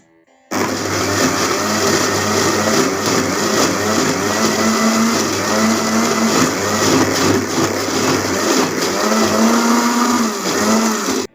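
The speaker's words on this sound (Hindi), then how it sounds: "ऐड करने के बाद हम इसको अच्छी तरह से ब्लेंड करेंगे।" A blender jug whirs loudly and steadily, chopping fried onion, tomato and green chili into a paste, its motor pitch wavering slightly as the blades churn the thick mix, with no voices over it.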